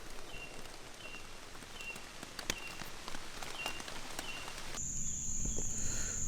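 Rain falls steadily on a tent and hammock during a solo kayak camping trip on the Cashie River, a soft close patter with scattered louder drops and faint chirps in the background.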